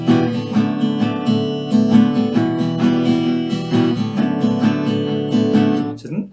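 Continuous acoustic guitar strumming in an easy beginner folk tune, played close and steady with no breaks, ringing chords repeating in an even rhythm until a brief stop at the end.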